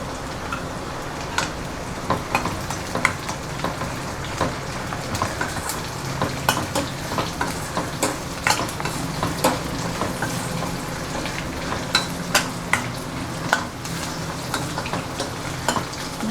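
Roasted gram and coconut sautéing in a pan for jackfruit kola urundai, a steady close sizzle with light scraping and stirring clicks throughout.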